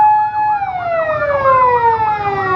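An ambulance siren on a blocked road near the Multan Road entry to Lahore, a loud near wail sweeping up and down in pitch while the tone slowly falls, with traffic underneath.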